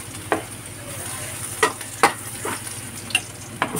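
A little cooking oil heats in a pan for a breakfast of corned beef and tuna, giving a low steady sizzle with several sharp clinks and scrapes of a utensil stirring.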